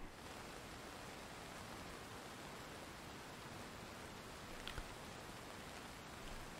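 Steady rain falls in the SquadOps video game, a dense, even hiss of drops on surfaces that continues unbroken and fairly soft, with a faint click partway through.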